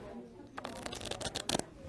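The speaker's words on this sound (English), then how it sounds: "how to shuffle a deck of cards are just a couple of things students learn how to do here at CEG Dealer School" A deck of playing cards is shuffled at a casino dealer school in downtown Las Vegas, a quick run of close riffling flutters and snaps lasting about a second and a half.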